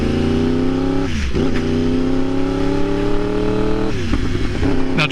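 A 2015 Yamaha R1 sportbike is ridden hard, its engine loud and close, revving up in rising sweeps that break twice at gear changes before climbing again, with no voices over it.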